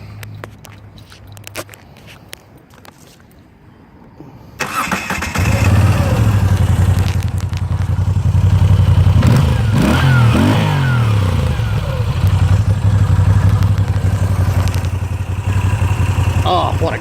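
A Moto Guzzi V9 Bobber motorcycle fires up after a few quiet handling sounds, then idles loud and near with a steady low thrum, punctuated by several throttle blips that rise and drop.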